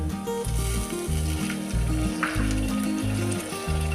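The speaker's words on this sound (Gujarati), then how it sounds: "કાંદા હવે આપણા બ્રાઉન થઈ ગયા છે. ટમેટા એડ કરી દઈશું." Chopped tomatoes tipped into browned onions in a hot pan raise a steady hiss of frying that runs under background music throughout.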